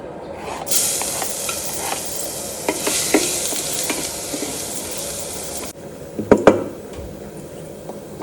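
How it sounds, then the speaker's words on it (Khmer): Garlic fries in olive oil in a pan with a continuous close sizzle, punctuated by scraping stirs and a few sharp utensil clinks toward the end. No talking. "បន្ទាប់មកខ្ញុំចាប់ផ្ដើមដាក់ខ្ទឹមសចូល"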